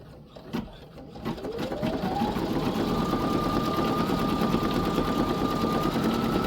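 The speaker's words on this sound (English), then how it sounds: "Step 14 is the satin stitch to what just stitched down." A Baby Lock Flare embroidery machine sews a satin stitch on an in-the-hoop project, spinning up after a couple of clicks into a close, steady, fast whirring hum that runs on alone.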